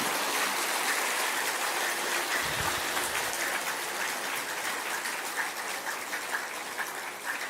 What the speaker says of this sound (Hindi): एक बार सब एक दूसरे के उत्साहवर्धन में तालियों की गड़गड़ाहट करें